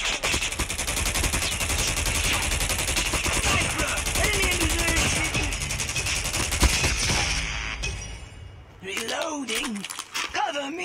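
Dense rapid gunfire from the mobile shooter game Call of Duty Mobile rattles continuously for several seconds, then stops abruptly and gives way to a voice talking over quieter game sounds.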